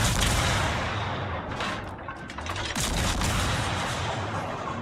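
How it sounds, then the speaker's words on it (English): Heavy naval guns of the battleship Nagato firing high-explosive shells in the World of Warships video game, a loud, dense, continuous barrage of booming blasts and rumbling reports overlapping with no pauses. "The Nagato is shooting HE, by the way."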